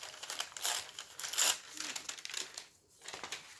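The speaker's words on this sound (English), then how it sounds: "I think I want to tear a piece off of here" Masking paper being torn and crinkled by hand, with close, crisp rustling bursts in short irregular bouts separated by brief pauses.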